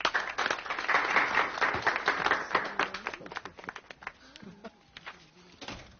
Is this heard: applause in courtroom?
yes